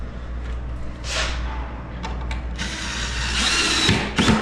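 A power drill driving screws into wooden crate shelving, with short whirring bursts followed by a longer, louder spin that ends in a clatter, all heard up close over a low steady hum.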